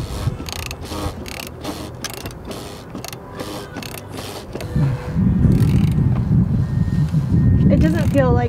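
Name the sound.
wrench tightening bolts during a big rig oil change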